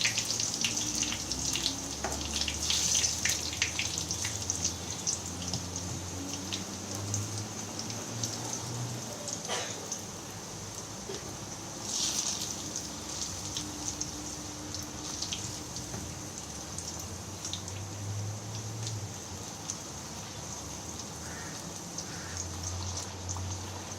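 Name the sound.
battered spinach leaf frying in hot oil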